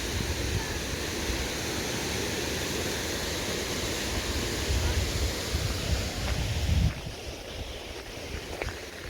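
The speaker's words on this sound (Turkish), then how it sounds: "Köprünün şu tarafından da böyle dere devam ediyor." Steady broadband rushing of a stream flowing beside a historic stone bridge and village mill, close by and continuous for several seconds, then slightly thinner and quieter near the end.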